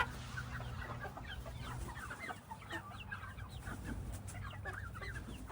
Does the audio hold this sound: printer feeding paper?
no